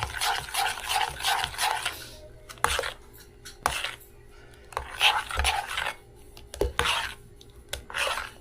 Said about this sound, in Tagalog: Yan, haluin lang na ganyan.